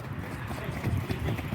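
Hoofbeats of a gaited Brazilian marcha batida horse, a steady rhythmic clip-clop under faint background voices and outdoor ambience.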